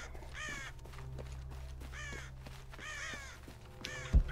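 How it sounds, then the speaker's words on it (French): Crows caw in Shadow of the Tomb Raider, several separate harsh calls spaced about a second apart over a low ambient hum, with no voices. "Les corbeaux de partout."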